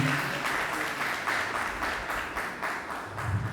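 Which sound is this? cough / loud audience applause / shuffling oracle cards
loud audience applause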